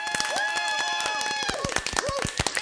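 Sharp hand claps from one or a few people on a wedding podcast, a quick irregular burst of claps heard up close alongside voices.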